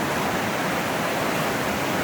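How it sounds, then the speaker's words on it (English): Flooded Gold Creek, on the east side of the Golden Ears Mountains near Maple Ridge, swollen over its banks the day after the 2021 flood, gives a loud, steady roar of rushing water close by with no voices. "And here's Gold Creek. This is the day after the big flood of 2021."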